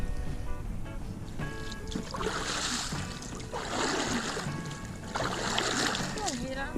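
Kayak paddles stroke through the water on Lake Annone, soft splashes and swishes coming in several surges while people talk nearby.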